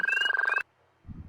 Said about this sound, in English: ribbit, it's only calling to other Pacific chorus frogs, not to American toads or other frogs